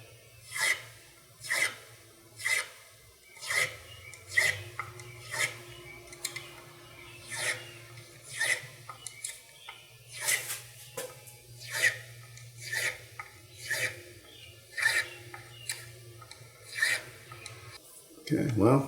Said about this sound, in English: And this is the Fret Guru fret end file.